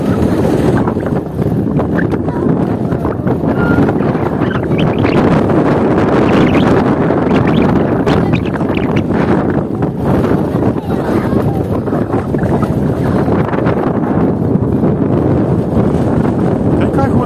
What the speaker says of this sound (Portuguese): O barulho do vento passando na sua televisão